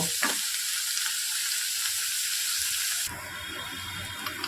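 Onions frying in a pan, a steady close crackling sizzle throughout with a faint clink near the start and a slight drop in intensity partway through.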